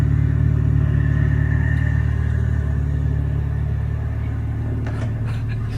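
A Toyota MR2 runs close by with a steady, deep exhaust rumble and low engine drone that holds almost unchanged throughout, with no speech over it.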